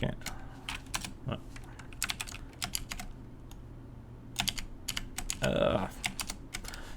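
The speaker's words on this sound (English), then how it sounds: "So let's just retype this in." Computer keyboard typing in short bursts of quick, close keystrokes with pauses between, entering Python code in the IDLE editor; faint background hum.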